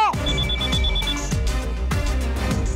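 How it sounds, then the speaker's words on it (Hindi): A telephone rings in repeated bursts, loud and close, with a steady electronic ring pattern repeating about every half second. "राजू फोन उठा।"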